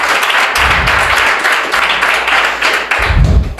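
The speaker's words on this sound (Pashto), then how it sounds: "په ویاړ یې چکچک وکړئ" An audience at a weekly literary gathering breaks into dense, sustained applause, many hands clapping together in a loud, even patter that continues without pause.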